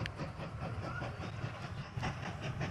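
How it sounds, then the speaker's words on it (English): A train rolls along in the Mashinky railway-building game, a steady rumble with rhythmic clickety-clack and light hiss, fairly faint and alone. "New train."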